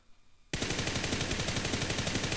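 Rapid full-auto fire from an M4 rifle with a 10x scope in the mobile shooter PUBG New State: loud, evenly spaced shots in a steady burst after a short quiet start, continuing to the end.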